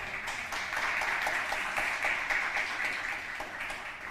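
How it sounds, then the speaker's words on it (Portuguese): A church congregation applauds during a sermon, many hands clapping in a continuous, fairly loud patter with no voices over it. "Você pode aplaudir essa palavra em nome do Senhor Jesus?"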